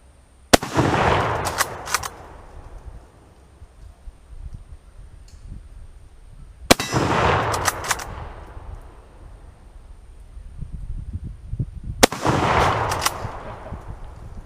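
Three loud, sharp gunshots from an old Mosin-Nagant bolt-action rifle ring out outdoors, spaced about six seconds apart, each crack followed by a long rolling echo.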